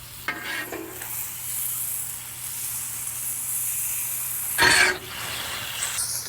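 Butter and garlic sizzle on a hot Blackstone griddle, ready for potatoes. A steady, close frying hiss runs throughout, broken by a couple of brief louder scraping stirs, with no voices.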